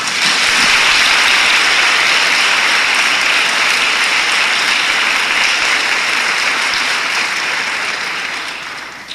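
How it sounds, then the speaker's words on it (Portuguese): A church congregation at a youth congress gives a loud, sustained round of applause, a thick, even roar of many hands clapping that holds steady before tapering off at the end. "Vamos dar uma salva de palmas ao Senhor."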